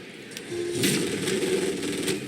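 A car engine in Hitman 2 sputters and rattles unevenly as it struggles to start, a rough, moderately loud churning with irregular bursts and no voices.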